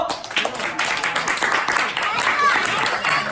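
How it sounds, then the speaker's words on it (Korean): A group applauds in a church children's service, with steady, dense clapping and voices mixed in, lasting a few seconds. "박수 주세요"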